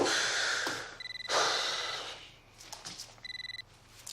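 Two bursts of an old-style phone bell trilling, between loud breathy exhales and sighs close to the mic.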